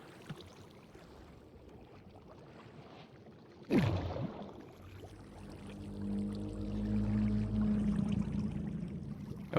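Deep, drawn-out whale calls moan from the water in a video game at sea near a boat, following a sharp splash-like burst, fairly faint over soft ambient wash.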